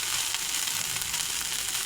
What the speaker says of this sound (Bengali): এবার গুঁড়ো মশলা দিয়ে দেব